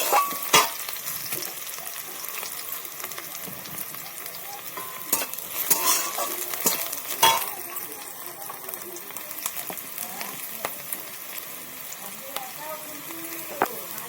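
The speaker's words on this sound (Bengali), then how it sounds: "ভালো করে লাল লাল করে ভেজে নেব।" Fish curry ingredients fry in a pan without onion or garlic, giving a continuous close sizzle with scattered clinks and scrapes of stirring. Someone talks over it at times.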